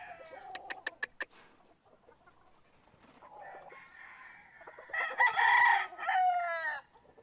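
A sweater gamefowl rooster at a breeding gamefarm gives one loud, close crow near the end. Sharp pecking taps and scattered clucks come before it.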